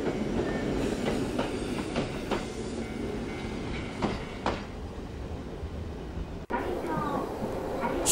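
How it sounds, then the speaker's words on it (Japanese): A local commuter train, formerly of Tokyo's Hibiya subway line, rolls steadily along the rails toward Yudanaka in Nagano, with rhythmic clacks and a broad rumble under a constant interior hum and faint background voices. "その後普通電車、もともと東京の地下鉄日比谷線で活躍していた電車に乗って"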